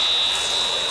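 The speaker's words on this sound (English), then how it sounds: "The alarm on Paul's gas detector has alerted him to the presence of toxic gas" A gas detector alarm sounds a warning of toxic gas in a grimy sewer or drain setting. It is a loud, steady, high electronic tone that holds without a break, close by, with no speech.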